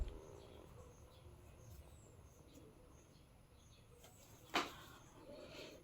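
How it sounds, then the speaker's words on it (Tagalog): Birds call faintly outdoors in a quiet roadside spot with little passing traffic, soft scattered chirps and coos over low ambient hiss, with one sharper brief call standing out near the end. "mga ibon na lang po ang nag-iingay"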